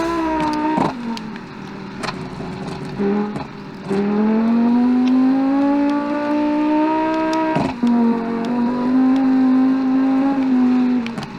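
A rally car engine revs and drones steadily up close on a river rally stage, pitch rising and shifting through gear changes with brief clunks between.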